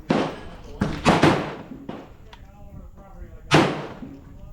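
A Radical Firearms 7.5-inch AR pistol fires at a range, several sharp, loud blasts spaced irregularly with brief ringing decays, including a close double shot near the middle and a final strong report.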